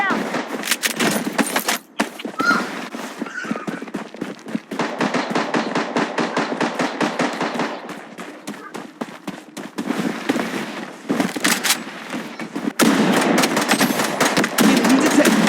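Video game battle gunfire rattles in loud rapid bursts of automatic fire with brief pauses between volleys, and heavier sustained shooting near the end. Short voice lines can be heard through part of it.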